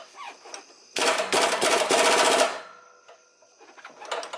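An impact wrench on the exhaust header bolts of a 2014 Ford Mustang GT fires one loud, rapid hammering burst lasting about a second and a half, followed by a few faint clicks and a second short burst starting at the end.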